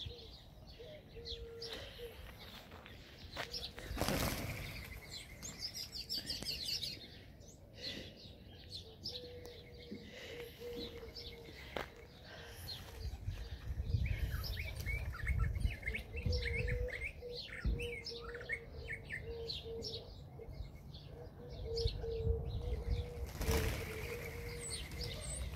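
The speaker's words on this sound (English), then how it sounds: "There's my birds." Pet birds chirp and call in an outdoor enclosure, scattered tweets and short calls near and far with occasional bursts of wing flapping and low rustling, moderately quiet throughout.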